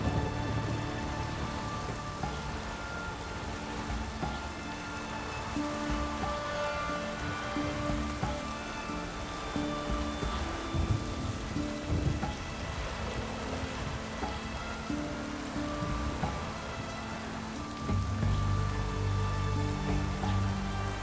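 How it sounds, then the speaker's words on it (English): Steady rain falls in The Witcher 3: Wild Hunt, a dense even patter that runs unbroken for the whole stretch, with a low rumble swelling near the end. "It's raining, of course it's going to be damp."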